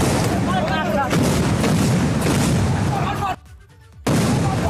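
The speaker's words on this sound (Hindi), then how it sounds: "एक के बाद एक धमाके की आवाज भी आप सुन सकते हैं।" Loud, chaotic explosions in rapid succession during a riot at a nomination event in India, amid crowd noise and shouting, with a brief lull near the end before the din resumes.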